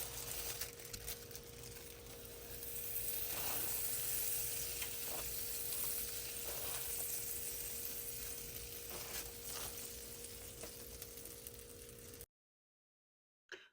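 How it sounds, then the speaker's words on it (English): Half a stick of butter melts in a pan with a steady, close bubbling sizzle and faint stirring, loudest midway, before cutting to silence at the very end. "You want to start off by seasoning your pan with a half stick of butter. Let that melt for just a few minutes."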